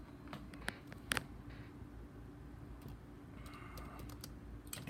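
Sparse, faint keystrokes on a computer keyboard, a few isolated clicks with one short burst, over a steady low background hum during Windows Server administration work.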